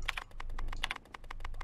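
A typewriter in the video game Daymare 1998 clatters with rapid, uneven keystrokes, close and crisp, each strike a sharp click over a low hum with no talking.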